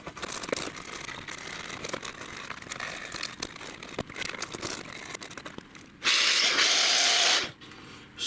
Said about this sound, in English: Continue scrubbing.